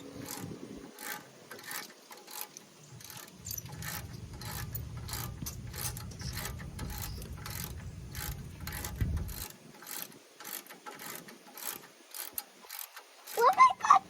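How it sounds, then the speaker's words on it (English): A ratchet wrench tightens a brake caliper bolt during a brake pad change, giving a steady run of quick, evenly spaced clicks close up, with a low rubbing rumble partway through and a brief clatter at the end. "get your wrench, tighten her up"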